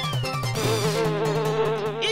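A swarm of bees droning around a beehive in a cartoon scene, a loud, steady, close buzzing layered with shifting tones, with no speech.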